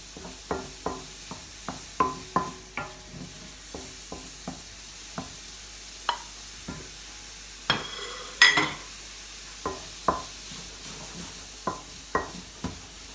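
Garlic sizzling briefly in a frying pan alongside cooked prawns, with sharp repeated clinks and scrapes of stirring over a soft frying hiss, close by and without talk.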